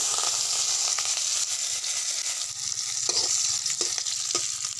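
Chopped garlic frying in a hot pan, a steady broadband sizzle throughout with a few scraping stirs near the end, close and loud, no talking.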